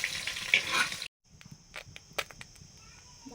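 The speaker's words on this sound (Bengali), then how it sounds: "মাছের মাথা কত সুন্দর ভাজা হয়ে গেছে লোহার কড়াতে" A fish head fries in an iron wok with a hiss that cuts off abruptly, followed by faint sizzling broken by a few sharp clicks and scrapes.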